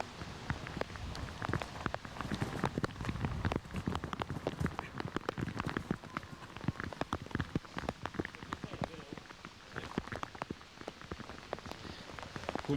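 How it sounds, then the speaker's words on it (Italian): Heavy rain falling at an outdoor show-jumping event, a dense continuous patter of drops on surfaces throughout, with a commentator speaking over it. "adesso ricomincia a piovere forte"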